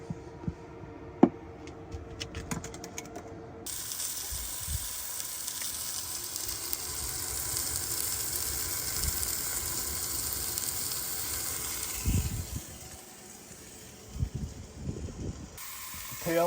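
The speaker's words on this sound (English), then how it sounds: "Turn our InstantPot to saute. Add a little bit of olive oil. And we're just going to sear both sides of our meat." Meat searing in olive oil in an Instant Pot on the saute setting, a steady broad sizzle that holds close and loud for most of the clip after a quieter start, easing off near the end with occasional pops.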